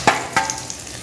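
Mustard seeds and cumin hit hot oil in a pan, giving two sharp close bursts of crackle followed by a fading sizzle, with no talking.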